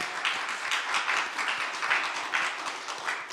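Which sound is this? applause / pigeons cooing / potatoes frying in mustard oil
applause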